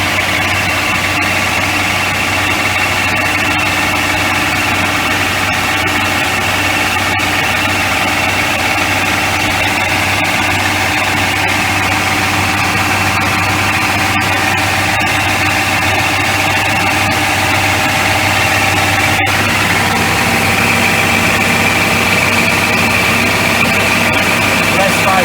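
A machine's engine runs steadily at about 1800 RPM, giving a constant, loud droning hum with a smooth vibrating tone that holds unchanged close to the microphone.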